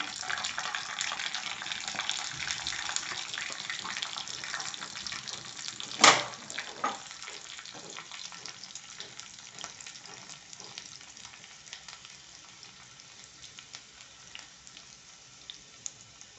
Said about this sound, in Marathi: तापलेलं आता याच्यात आपल्याला जिरं घालायचं आणि इथे मी हे 4-5 लसूणच्या पाकळ्या सोडलेल्या आहेत त्या घालायचे